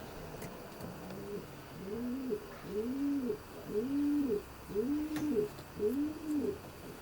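Racing pigeons coo inside a widowhood loft section, a close, regular series of soft rolling coos repeating about once a second over faint room noise.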